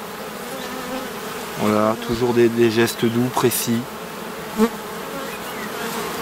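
Black honey bees swarm around an opened hive with a steady, close buzzing drone that continues throughout, while someone speaks calmly over it for a few seconds.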